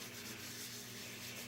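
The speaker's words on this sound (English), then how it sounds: "So it requires less sanding. You're really just doing it to fair in the surface." Steady dry rubbing of sandpaper across the painted, glossy surface of a model jet, a continuous close scratchy hiss with no pauses.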